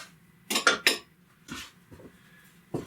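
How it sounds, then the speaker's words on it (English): A metal spoon lifted from a clutter of cutlery, giving three quick close clinks followed by a few softer scattered taps in a quiet kitchen. "grab my favorite spoon"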